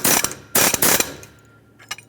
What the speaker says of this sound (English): continue on snugging it with your fan clutch tool